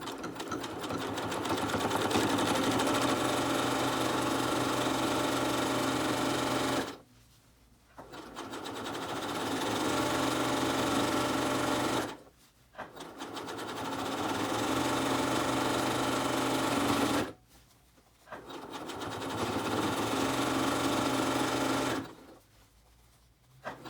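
A sewing machine stitches a seam in steady whirring bursts, running several seconds at a time and stopping briefly between runs, close and continuous with no voices over it.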